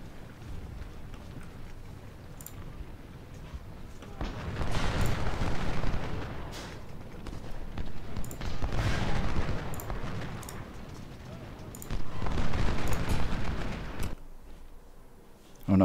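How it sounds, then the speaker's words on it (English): Cannon and artillery fire in the Civil War strategy game Ultimate General: Civil War at the Battle of Antietam, heavy rumbling barrages in several loud swelling bursts over continuous battle noise. "there's cannons in the woods."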